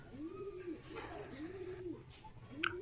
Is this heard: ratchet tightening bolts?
no